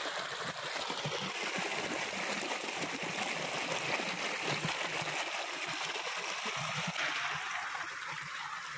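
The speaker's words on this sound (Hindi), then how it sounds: "बिल्कुल साफ़ सुथरा पानी है ये और इस पानी को फसल में फैला दिया जाता है" Clean water runs through an irrigation channel beside crop fields in a Haripur Hazara village, a continuous gurgling rush with soft trickles and splashes, steady and fairly close throughout.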